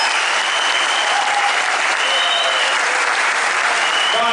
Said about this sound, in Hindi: मैं चाहूंगा एक बार जोरदार तालियां आप सब लोगों के लिए